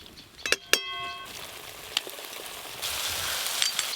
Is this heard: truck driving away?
no